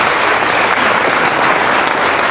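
Loud, steady applause from a sizable crowd at a Virginia energy grants press conference, dense clapping sustained evenly throughout.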